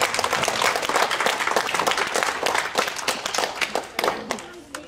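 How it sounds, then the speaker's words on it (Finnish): An audience at a Christmas party gives applause, loud lively clapping from a crowd with rising and falling intensity and some voices mixed in. "Annetaanhan vielä aplodit"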